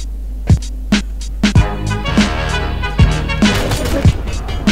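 Gunshots in a first-person shooter video game where a bomb is being planted, several sharp reports in irregular succession over a loud constant hum and busy game noise.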